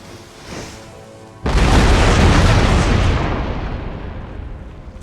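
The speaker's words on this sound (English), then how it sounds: "Hopefully these cannons can do the job." Cannon artillery fires in Empire: Total War, a single heavy boom about midway that rolls into a long, loud, rumbling blast slowly fading away, with no voices.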